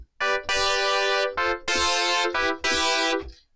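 A brassy Poly Keys synth preset built in Ableton Operator plays a short phrase of sustained, bright, buzzy chords in several separate stabs, clean and close with no talking.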